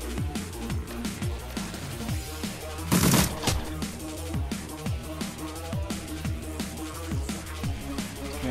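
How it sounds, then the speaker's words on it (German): Gunfire in the tactical game Shadowrun Returns, rapid repeated shots in a steady rhythm with a louder burst near the middle, sharp and close over a game soundtrack, with no talking. "Einen normalen Schuss."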